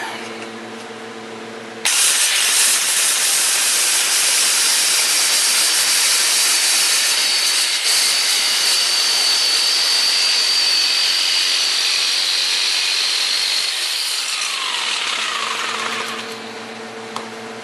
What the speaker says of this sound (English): so I go ahead and use the jigsaw with a metal blade in it